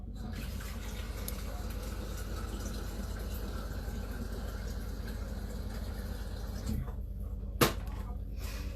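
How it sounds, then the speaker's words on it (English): Water runs from a tap into a jug for chickpea dumplings in a kitchen, a steady rushing fill that continues for several seconds before stopping, with a brief clunk near the end and no talk. "So I'm just going to fill up the jug."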